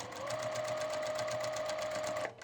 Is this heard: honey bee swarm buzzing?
no